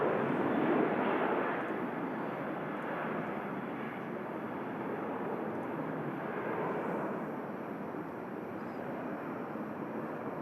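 A propeller aircraft at Manchester Airport drones steadily at a distance, a broad continuous engine rumble that swells slightly and then eases off without any break.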